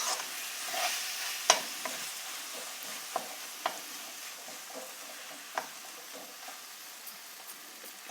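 Chopped tomatoes with turmeric sizzle softly in a pan for goat head curry, a steady gentle frying hiss with occasional sharp pops and crackles, close and quiet, with no voices.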